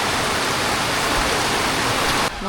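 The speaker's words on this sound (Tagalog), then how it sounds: "Ang lakas ng ulan." Heavy rain pours down steadily on a planted field, a dense, loud, unbroken hiss that cuts off briefly near the end.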